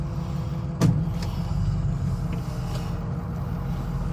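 A car on a hillside idles steadily close by, with a single loud thump near the start, like a door or shift, and a low engine drone throughout as it gets ready to reverse.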